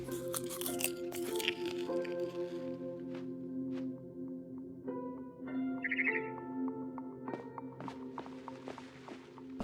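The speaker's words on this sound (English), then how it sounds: "I kept eating and eating." Crunchy biting and chewing noises from What Remains of Edith Finch come in irregular bursts, loudest at the start, over a sustained tonal game soundscape with faint chirps.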